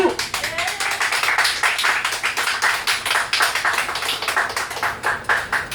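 Passengers aboard a city bus in Busan clap together in a quick, rhythmic run of close, loud handclaps that keeps an even beat for several seconds.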